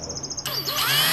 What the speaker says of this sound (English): you can drill some holes in the bottom